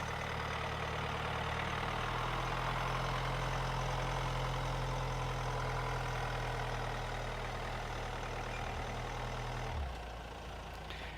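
A Hyundai Tucson Highlander diesel idles with a steady low drone for about ten seconds, then the engine is switched off and the hum drops away abruptly.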